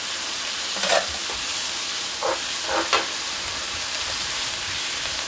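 Chicken soup poured into rice noodles frying in a pan to steam-fry them, giving a steady hiss of sizzle and steam with a few brief louder splashes and stirring bursts.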